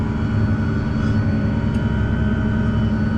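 A Fendt tractor engine drones steadily while driving through wet sand and water, a loud, continuous low rumble held at constant strength throughout, no voices.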